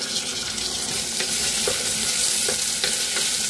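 Finely chopped onion fries in a pan over medium-high heat for a masala jackfruit dish, giving a continuous close sizzle with occasional light stirring knocks. No voices.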